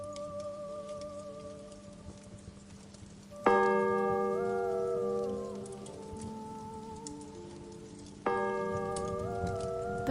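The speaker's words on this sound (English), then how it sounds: "The bell tolls 3 times, slow, heavy, final." A heavy church bell in a quiet village tolls three slow strikes, each ringing out loud and rich before fading over several seconds, with the final blow landing after a long pause.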